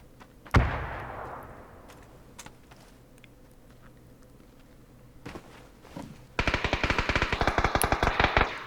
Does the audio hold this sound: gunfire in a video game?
yes